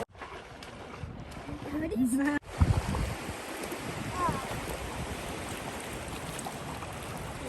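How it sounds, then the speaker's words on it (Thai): Rafting on the Boise River, with rushing rapids and waves churning steadily around the raft and wind buffeting the microphone, while people talk and shout over the water. "มันเป็นคลื่นนะอันนี้"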